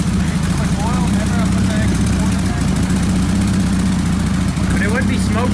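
A wrecked Porsche 911 Turbo engine idles roughly with an uneven, misfiring rumble, loud and continuous throughout, with brief chirps and higher whines rising near the end.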